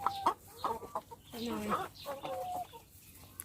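Egg-laying hens, a flock of about forty, cluck in short, uneven bursts and bursts of squawks at close range, fairly quiet overall with no talk.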